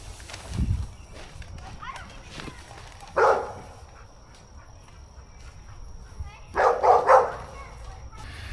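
A dog barks over a backyard fence at someone cutting tall grass with a scythe, two short bursts of barking a few seconds apart, moderately near, with quiet outdoor background between.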